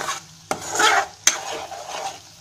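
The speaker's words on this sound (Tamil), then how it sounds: "சிம்மில் வச்சு பொறுமையாக கிண்டி விட்டுட்டே இருங்க" Butter simmering on low heat for ghee is stirred in a pan, with a soft continuous sizzle, scraping strokes, and two sharp utensil knocks against the metal.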